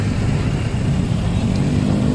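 Congested road traffic on the route through Bekasi, a low, steady engine rumble from nearby vehicles crawling in a jam, heard from inside or close to the flow with no clear passing peaks.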